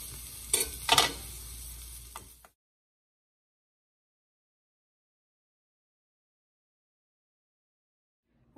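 Bitter gourd (caraille) fries briefly in a pan with a couple of sharp stirring scrapes over a soft sizzle, cutting off after about two seconds into near silence.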